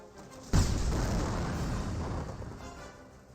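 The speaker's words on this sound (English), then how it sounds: "Incendiary mortar does fire, does destroy a carcass there." An incendiary mortar shell lands in a Company of Heroes battle with a sudden loud boom, and the blast trails off into a long rumbling crackle of fire over the next few seconds. No voices are heard.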